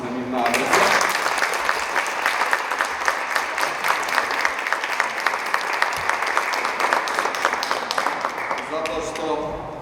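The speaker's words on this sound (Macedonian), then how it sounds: "дури ќе замолам и еден аплауз на нивна адреса" Audience applause at the BookStar 2023 book award ceremony, with dense, sustained clapping from a crowd for about nine seconds, bracketed by brief speech at the start and end.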